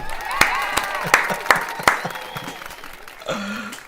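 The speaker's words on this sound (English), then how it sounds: "let's clap it up for me" A handful of sharp, separate claps ring out near a live streamer, roughly evenly spaced, followed by a brief vocal sound.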